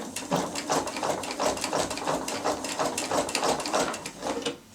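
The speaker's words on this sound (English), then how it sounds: "And all I'm going to do is bring my binding over and sew in the ditch." A sewing machine stitches binding in the ditch onto a piped quilt, a fast, even mechanical chatter pulsing in steady rhythm at close range with no voices.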